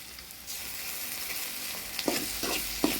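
Tomatoes tipped into onions already fried red in a pan for a prawn curry, giving a soft steady sizzle that swells after a moment, with a few sharp stirring scrapes near the end.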